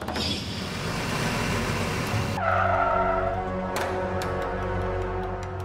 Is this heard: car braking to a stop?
yes